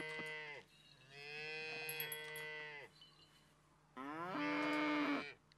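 Cow mooing in the farming game Coral Island: two long, tonal moos separated by a brief pause, clear and close against a quiet background.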